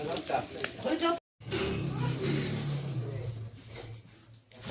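Fish fries in a pan with a soft, steady sizzle, while faint voices are heard near the start and a short gap of silence comes early on.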